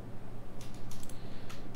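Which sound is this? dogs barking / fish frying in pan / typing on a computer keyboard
typing on a computer keyboard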